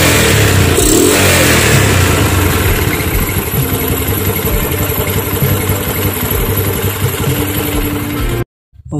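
A repaired motorcycle engine that used to stall when throttled runs close by, idling with a steady rumble and then revving up in several rising surges before cutting out abruptly near the end.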